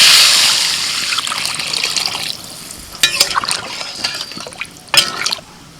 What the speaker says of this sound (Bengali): মশলার আলু মিনিট 5 কষিয়ে নিয়ে জল দিচ্ছি।